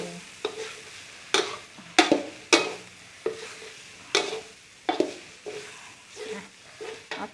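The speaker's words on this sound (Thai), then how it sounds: "เราก็ลองผัดดูก่อนเนาะ ผัดดูก่อน" Minced pork stir-fried with lemongrass and kaffir lime leaves, heard as a rhythmic series of spatula scrapes and knocks against the pan over a soft sizzle, close and fairly loud, with no talking.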